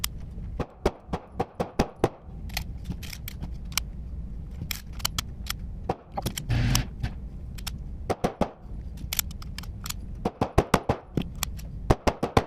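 A 50-year-old pawn shop pistol fires at a shooting range in a long series of sharp, loud shots, some in quick bursts and others spaced apart, with other shots sounding nearby.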